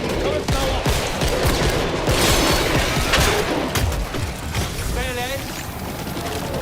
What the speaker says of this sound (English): And sentry guns back online.